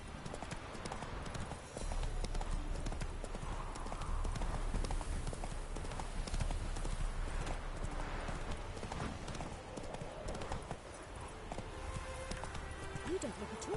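A horse gallops in a steady, rapid clip-clop of hooves that runs throughout, close and fairly loud, with faint voices in the background.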